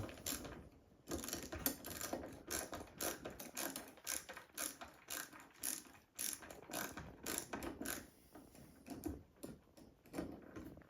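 A hand screwdriver drives screws into a ceiling fan bracket overhead, giving a rapid run of close ratcheting clicks in bursts with brief pauses between turns, and no talking.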